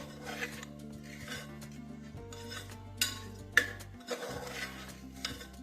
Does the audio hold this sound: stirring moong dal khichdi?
yes